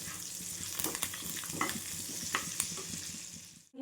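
Curry leaves, cumin and chana dal fry in hot oil in a pan, a steady soft sizzle with occasional crackles and stirring scrapes, close and fairly quiet with no talking.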